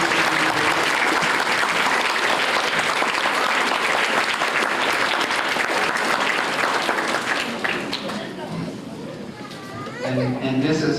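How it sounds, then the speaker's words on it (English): Loud, sustained applause fills a sixth grade graduation ceremony, with children's voices and chatter mixed in. The clapping fades partway through, then swells again briefly at the end. "Would you give them a round of applause?"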